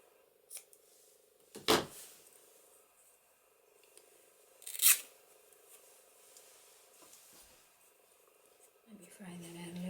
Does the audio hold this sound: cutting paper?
yes